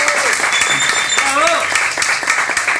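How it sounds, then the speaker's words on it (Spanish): A crowd applauds at a book launch about Garage and La Plata rock, with bursts of clapping under a speaker's voice. "Un aplauso para ellos"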